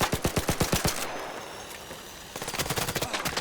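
Rapid automatic gunfire from a gun in the video game Arc Raiders, a fast burst of sharp shots, a short pause, then another burst, loud and close.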